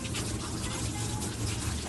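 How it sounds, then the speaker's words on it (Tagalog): Water runs steadily from a tap as an eggplant is washed beneath it, a continuous close rushing hiss throughout. "So, hugasan natin ng talong."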